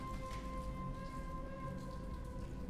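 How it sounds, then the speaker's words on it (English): Soft, even patter of rain falling in the game Mass Effect, a faint continuous hiss with a steady tonal hum running beneath it. "Oh, because it is raining."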